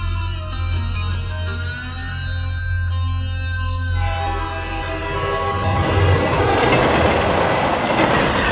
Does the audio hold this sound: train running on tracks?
yes